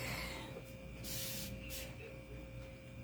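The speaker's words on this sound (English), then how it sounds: "Let me spray this baby real quick." Aerosol spray can hissing onto a bottle during a beachy craft makeover, with bursts of spray around one and a half seconds and again shortly after, close and fairly soft over a steady background hum.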